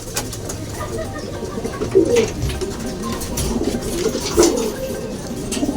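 Soft, throaty cooing of racing pigeons repeats a few times at a moderate distance, set against a steady outdoor background hum with no one speaking.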